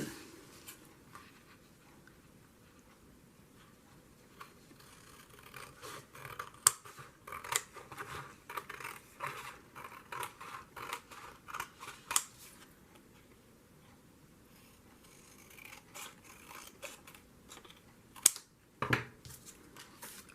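Scissors cut paper for a junk journal, a long series of close, crisp snips and slicing strokes in irregular bursts, loudest toward the middle and end, with no talking.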